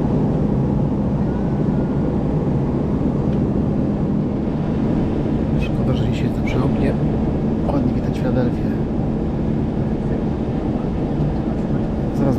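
A full passenger jet takes off on a December flight from Montreal toward Luxembourg, heard from inside the cabin as a loud, steady, broadband roar that fills the whole stretch, with faint scattered noises above it.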